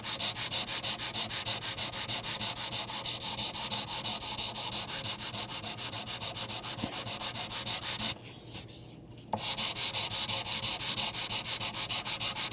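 Wet sanding a guitar finish with fine paper: a continuous, close, even scrubbing rhythm of rapid back-and-forth strokes, broken by one brief pause near the end before resuming.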